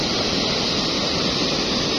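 Semeru lahar floodwater rushing beneath the Limpas bridge in Lumajang, a steady, loud broadband roar like a waterfall that holds constant throughout with no pauses or voices.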